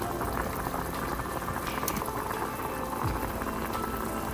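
A pot of chicken mandi boils steadily on the stove, a dense continuous bubbling and simmering with small pops and no voices.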